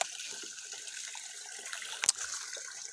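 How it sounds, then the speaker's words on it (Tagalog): Water from a water-supply pipe damaged by Typhoon Odette trickles and splashes steadily, with a brief louder splash near the end, no talk. "Yan na. Tumutulo."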